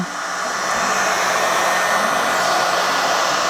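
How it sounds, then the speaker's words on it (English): A heat gun running steadily on a bent snowshoe binding, a loud, even blowing roar that holds unbroken from start to finish with no talking. "the heat gun along our bend on both sides"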